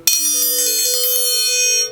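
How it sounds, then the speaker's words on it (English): A metal triangle rolled rapidly back and forth inside its corners like a dinner bell, giving a bright, continuous shimmering ring with a steady tremolo for nearly two seconds before cutting off, played alone. "it might be tempting to approach a triangle roll in the good old dinner bell fashion"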